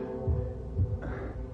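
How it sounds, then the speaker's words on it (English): Video game heartbeat, two deep muffled thumps spaced about half a second apart, low and throbbing over a faint steady hum. "I'm hearing a heartbeat."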